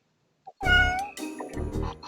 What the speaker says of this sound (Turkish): Ben bu kediciyi duydum.